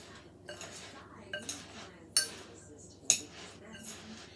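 Utensils clink and scrape against a bowl while a Mediterranean cucumber salad with red pepper, Kalamata olives, feta and onions is tossed, giving a few soft stirs and sharper clinks, close and quiet.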